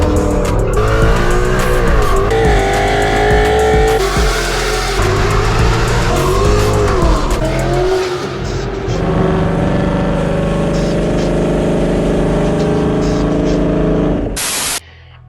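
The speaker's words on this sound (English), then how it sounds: "Everybody thinks that their V8 is loud until a Mustang GT pulls up." A 2020 Mustang GT S550 V8 roars loud and close in the city, revving hard without a break for about fifteen seconds before cutting off abruptly.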